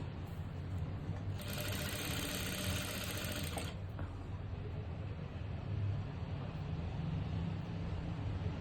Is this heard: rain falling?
no